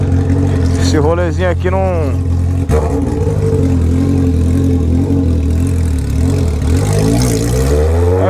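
A Honda Hornet motorcycle with a straight-pipe exhaust holds a loud, steady engine drone throughout, with rising and falling revs, while someone talks over it.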